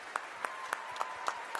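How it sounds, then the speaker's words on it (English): Audience at an FFA state convention claps, giving a short burst of applause with distinct, evenly spaced claps standing out over a softer background. "let's get one big round of applause"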